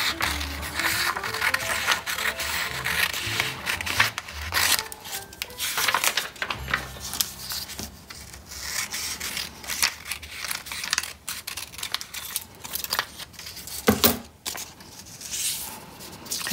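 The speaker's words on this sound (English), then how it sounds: "I'm going to cut a strip" Scissors cutting a wide strip of red craft material, heard as close, irregular crisp snipping and crinkling for about sixteen seconds, moderately loud with no talk.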